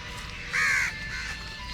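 A single loud, close crow caw in Gandhidham, one short harsh call over a low street hum.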